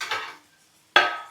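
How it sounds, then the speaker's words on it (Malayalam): A metal lid clinks onto a pot of coconut-milk fish curry, with two short, sharp clatters close by and a brief quiet gap between them. "അപ്പം ഞാൻ മൂടിയൊന്ന് വെക്കുവാണേ."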